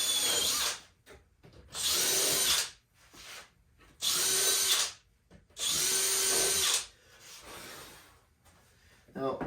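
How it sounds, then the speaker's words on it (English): A power drill pre-drilling wood for a Festool MFT/3 extension jig whines in four loud, close bursts separated by short pauses, with quieter handling sounds between them. "Again, I'm just going to pre-drill."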